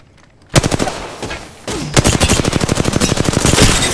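Rapid automatic gunfire in a video game shootout, loud close bursts starting abruptly, then a long rattling volley of evenly spaced shots with no voices.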